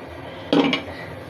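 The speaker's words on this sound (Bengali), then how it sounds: "ঢাকাটা তুলে নিচ্ছি।" A metal lid lifts off a pot of simmering beef with a short clank and scrape, one brief knock standing out clearly against a quiet kitchen background.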